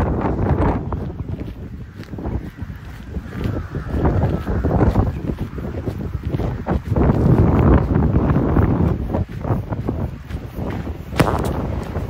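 Strong wind gusts buffet the microphone at a ferry terminal in Aarhus, Denmark, on a cold evening, a steady loud rumble lasting throughout with no talk.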